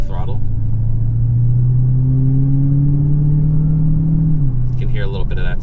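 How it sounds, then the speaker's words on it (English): A Dodge Charger Hellcat with a 707 hp supercharged 6.2L V8 gets light throttle while driving, giving a loud steady drone with a faint rising supercharger whine that drops away near the end as a voice starts. "You can hear a little bit of that supercharger whine."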